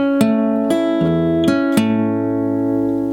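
A rockabilly fingerstyle electric guitar measure played with palm muting: several distinct plucked notes and chords with clear attacks, ringing sustained tones, played alone up close.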